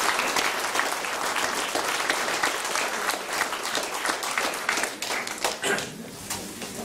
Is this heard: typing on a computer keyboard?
no